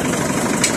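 A tractor engine runs steadily close by, a dense, continuous low rumble with an even vibrating texture and no pauses, heard alone.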